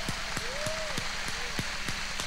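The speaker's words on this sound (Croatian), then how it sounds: "jedan veliki aplauz za sve večerašnje izvođače" A crowd at a televised 2003 Bosnian Eurosong show claps together in a steady, quick rhythm, each beat crisp and evenly spaced, with a thin whistle drifting over the top.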